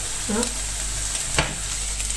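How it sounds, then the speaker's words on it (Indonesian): Black Angus beef steak fries in a pan with a steady loud sizzle throughout, broken by a brief stirring clatter and a short voice early on. "ini gorengin daging"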